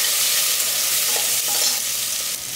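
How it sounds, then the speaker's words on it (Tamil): Onions sautéing in a pan with turmeric and salt for a mutton curry, giving a loud, close, continuous sizzling hiss that barely changes throughout, with no talking. "பாருங்க இப்போ வந்து வெங்காயம் நல்லா வதக்கியாச்சு"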